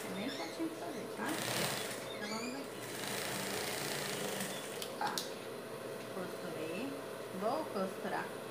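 A sewing machine stitches fabric for a dog shirt, running in short bursts of rapid mechanical whirring separated by brief pauses, close and clear, while someone speaks intermittently between the runs.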